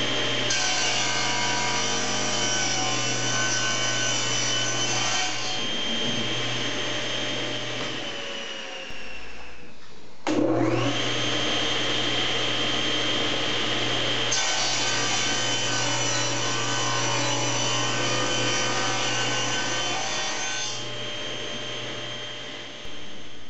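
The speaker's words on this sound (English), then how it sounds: "So what we're ready to do now is basically cut our leg blanks in half" A hand saw cuts through wooden leg blanks for an inlaid sitting bench in steady, rasping back-and-forth strokes, close and continuous, with a short break midway before sawing resumes.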